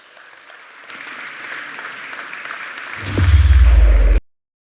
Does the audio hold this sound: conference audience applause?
yes